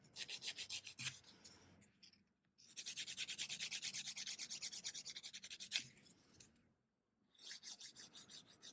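A nail file rasps back and forth over fingernail edges in close, steady strokes, with two brief pauses in the filing; no one speaks.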